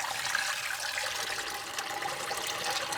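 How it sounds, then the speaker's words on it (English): Kale rinse water being poured out, a continuous close splashing and gushing stream of water that holds steady for the whole few seconds. "You can just dump that water out."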